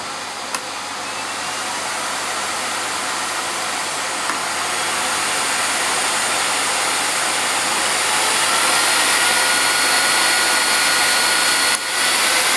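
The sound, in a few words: Miele Complete C1 vacuum cleaner running on minimum setting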